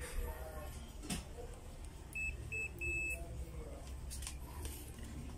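A high electronic continuity tester buzzer beeps three short times in quick succession while testing a faulty Asus laptop charger, amid faint background noise and muffled talk.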